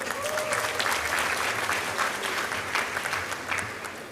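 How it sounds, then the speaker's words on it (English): Applause from a graduation ceremony audience, many hands clapping steadily at moderate loudness, a continuous crowd wash with a faint low hum beneath. "Shall we please applaud all of them?"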